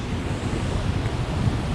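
Heavy water of the Susquehanna River rushing over York Haven Dam, a dense, steady roar alone with no voices, buffeted by wind against the microphone.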